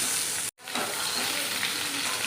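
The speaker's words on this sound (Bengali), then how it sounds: "একদম হালকা করে ভাজা হবে।" Hilsa fish pieces rubbed with salt and turmeric sizzle gently in oil, a close, even frying hiss that cuts out for an instant and then resumes steadily.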